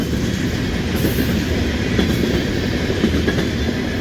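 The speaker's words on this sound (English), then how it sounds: "another train comes by" A freight train of oil wagons rumbles past steadily close by in the Chicago area, a continuous heavy roar of rolling wagons with faint rhythmic clacking over the rails.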